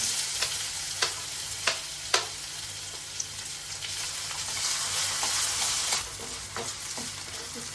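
Potatoes fry in hot oil with cumin, asafoetida, garlic and ginger, giving a steady close sizzle broken by a few sharp clicks of a spoon stirring against the pan.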